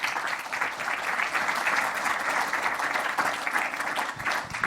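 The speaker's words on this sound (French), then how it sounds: "Vous pouvez les applaudir." Steady audience applause fills a conference hall at the opening of a results presentation, dense and continuous clapping with no voices over it.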